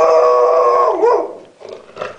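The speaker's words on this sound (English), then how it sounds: "Pet the nice doggy." A dog howls in one long, loud, wavering note up close, then trails off into a few softer, shorter whines and yelps.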